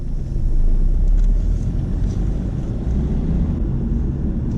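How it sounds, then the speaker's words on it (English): A car rumbles loudly as it moves off with its foot brake still on, a steady low grinding drone that holds throughout without any voices. "you'll hear that grinding noise again because his foot's on the foot brake"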